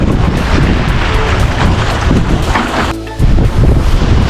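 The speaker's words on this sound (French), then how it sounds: "Allez, ça y est, le vent est là." Strong wind roars across a sailing catamaran at sea in open water, loud and buffeting the microphone continuously, with a brief lull near the end.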